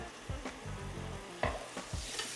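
Onions stirred in a pan with a splash of Worcestershire sauce, a low sizzle broken by a few distinct scraping stir strokes, close and moderately quiet with no talking.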